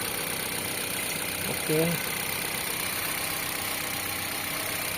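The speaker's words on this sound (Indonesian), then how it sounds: "Untuk mesinnya sendiri ini masih terbilang halus" A 2024 Mitsubishi Xpander 1500cc four-cylinder engine idling smoothly, a low steady hum heard close with a brief spoken word partway through.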